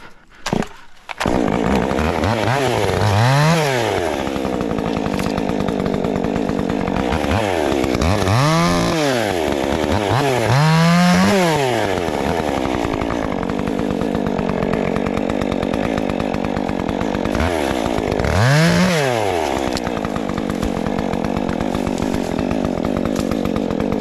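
A Stihl 201 chainsaw runs close and loud, cutting small pieces of wood, its engine rising and falling in repeated revving surges through a continuous snarl.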